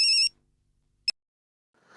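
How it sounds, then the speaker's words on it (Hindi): A telephone rings late at night with a short electronic trill, then a second quick chirp after a pause in near silence, followed by faint rustling. "जेठा भाई का फोन इतनी रात को, कोई इमरजेंसी तो नहीं?"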